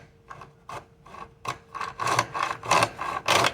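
A hand saw cuts a groove in wood for a phone holder piece, giving rasping back-and-forth strokes that start soft and sparse, then grow louder and more regular, with no talking.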